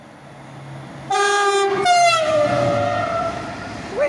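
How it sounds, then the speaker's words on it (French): TGV high-speed train sounding a loud two-tone horn as it passes the Maisons-Alfort station on the RER D line, the blast starting suddenly and then sliding down in pitch as the train goes by, with rail rumble continuing underneath. "TGV."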